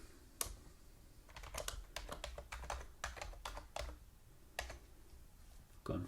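Keys on a computer keyboard are typed in quick irregular bursts while entering a password during Azure virtual machine setup, close and fairly quiet with short pauses between clusters of clicks.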